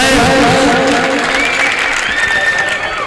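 Loud, sustained applause from the crowd at an Urdu ghazal poetry recital fills the whole stretch, with tonal voices or music ringing over the clapping.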